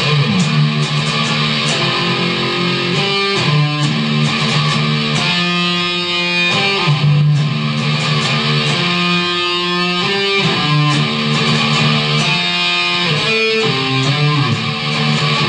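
A heavily distorted electric guitar plays a repeating chugging riff, loud and steady, with no voices.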